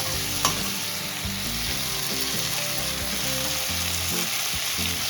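Vegetables and cumin paste sizzle steadily in a frying pan while a spoon stirs and scrapes them, a continuous close crackle with brief knocks against the pan.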